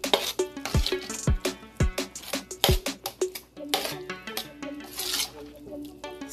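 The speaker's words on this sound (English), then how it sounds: "Now I'm stirring the seasoning together" Seasoned meat being stirred in a pan for grilled cheese burritos: a utensil scrapes and knocks against the pan in a steady rhythm, with a few deeper thumps early on and light rattling clatter throughout.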